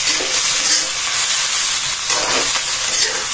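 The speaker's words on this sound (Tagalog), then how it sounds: "Haluin natin." Food stirred in a hot cooking pot during a quick lunch preparation, loud continuous sizzling and frying hiss with scraping stir strokes throughout, no one talking.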